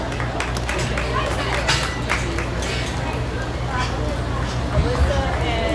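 Audience applause and crowd babble in a market swine show ring at a county junior livestock show, continuous scattered clapping mixed with chatter and background noise throughout.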